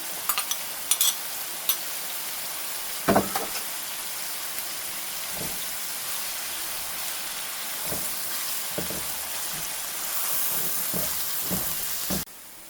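Chopped garlic sizzles steadily in a frying pan with a constant broadband hiss, broken by a few sharp clicks and stirs of a utensil against the pan.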